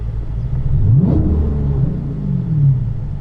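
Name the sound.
Dodge Challenger with Whipple supercharged 426 engine revving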